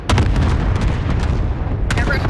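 Artillery rounds slam down in Call of Duty Warzone, a dense, loud rumble of heavy booms rolling continuously with a sharp crack near the end, close and alone.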